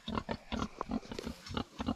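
Kunekune piglets, newborn and including a small runt, grunt and squeal in quick repeated bursts close by, a busy overlapping chorus of short oinks.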